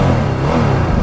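A 2018 Ducati Multistrada 1260S motorcycle engine revving through its standard exhaust, a loud, close, steady low rumble with a dense mid-range drone held for about a second and no voices.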